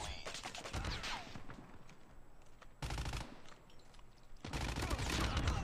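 A Type 25 assault rifle fires in Call of Duty Mobile in three sharp, dense automatic bursts, loud and close, separated by brief lulls.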